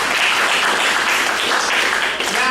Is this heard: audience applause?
yes